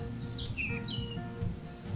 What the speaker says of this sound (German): Das rot gefärbte Männchen verzückt uns mit seinem flötenden Gesang.